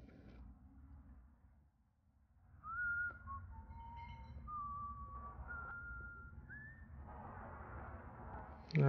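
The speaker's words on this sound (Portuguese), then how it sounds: "tá assobiando o hino lá" Someone in the video game Far Cry 3 whistles an anthem, a slow melody of sustained, gliding notes over a low background hum, fairly quiet, ending with a sudden louder noise.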